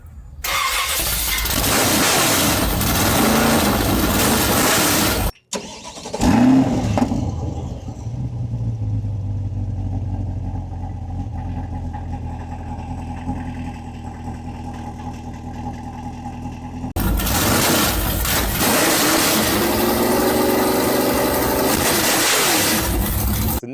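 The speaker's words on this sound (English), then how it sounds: "let's hear what this thing sounds like when you fire it up, and let's hear what it sounds like at idle" Stock-exhaust Chevrolet Corvette C8 Stingray with a cross-plane 6.2 liter V8, heard loud and close as it fires up with a sharp bark, then settles into a steady, rumbling idle before a louder burst near the end.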